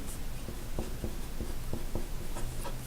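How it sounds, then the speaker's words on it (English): Pen or pencil writing an answer on paper in close-up: a series of short, distinct scratching strokes spread across a few seconds, faint against a steady background hiss, with no talking. "So you would just write your answer"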